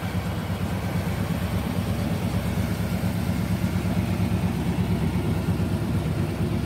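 A 1978 Chevy Impala wagon with a 350 engine, running a little rich, idles steadily with a low, even rumble heard up close and alone.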